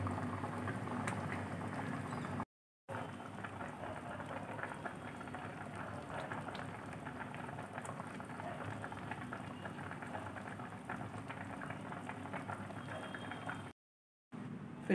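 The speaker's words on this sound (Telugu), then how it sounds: "స్టవ్ ఆన్ చేసుకుని హైలో బాయిల్ చేసుకోవాలి." Fish stew bubbling vigorously in a pot on high heat, a steady dense rolling boil lasting throughout with two brief silent gaps, no voices.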